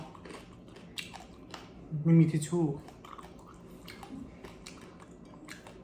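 Crispy three-layer pork belly crunches in a few close bites and chews, loudest in a short burst near the middle, with someone talking before and after.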